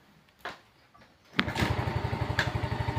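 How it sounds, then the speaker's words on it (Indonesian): A motorcycle with a fault that makes it stall when throttled is started after a couple of faint clicks; the engine catches with a sharp burst and settles into a close, steady, pulsing idle. "Tuh, suara mesinnya hidup, mesinnya nyala."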